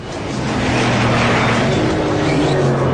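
A Bugatti Veyron at around 188 mph, its engine a loud, sustained roar with a steady droning tone, close and continuous with no voices.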